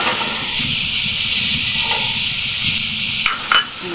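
Carrots and potatoes tossed into a pan for pasta, loud continuous close sizzle and hiss, with a couple of brief utensil knocks near the end.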